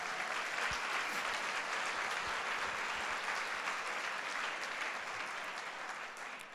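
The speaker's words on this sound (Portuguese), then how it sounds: "Quem recebe e crê, dá um aplauso aí a Jesus." A church congregation applauding during a Sunday service, a full, sustained wash of clapping from many people that holds for several seconds and eases slightly near the end.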